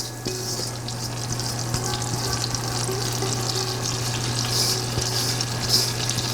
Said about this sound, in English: we're going to sear it